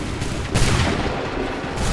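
A volley of soldiers' musket fire in Assassin's Creed 3, a loud, dense burst of overlapping shots over continuous battlefield din, followed by ragged rumbling reports.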